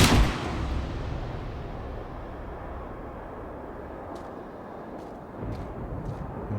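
In the video game Life is Strange, a single loud gunshot booms at the very start, then its rumbling echo fades away, followed by a few faint clicks and a low thud near the end.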